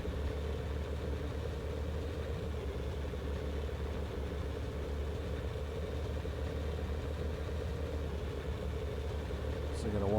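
Tank with a late-war engine in the video game Sprocket, a low steady rumbling engine drone running continuously at moderate volume, with a person talking over it.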